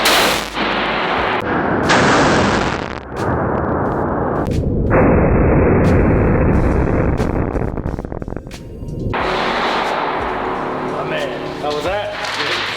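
A .50 caliber rifle fires inside an indoor shooting range at SHOT Show 2020, giving heavy, loud booming blasts that fill the space with a long, dense roar, while people talk nearby.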